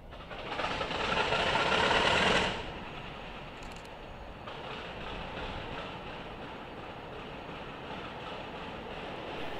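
An ALCO/MLW FPA streamliner diesel locomotive of the New York & Lake Erie, built in 1955, rumbles steadily while being prepped. A louder roaring surge comes first, then it settles into a lower, even idle close by.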